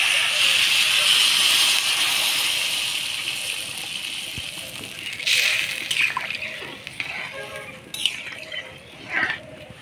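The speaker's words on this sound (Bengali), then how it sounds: "এবার জল দিয়ে দিলাম" Water is poured into a hot pan of masala-fried papaya for a light koi fish curry, setting off a loud steaming hiss that slowly fades, followed by a few scattered clinks and splashes.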